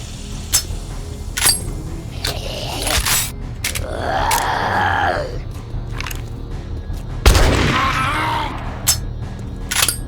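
Gunshots ring out in a video game amid the crackle of fire: a few sharp cracks and thuds come up close and loud between stretches of burning hiss and scraping.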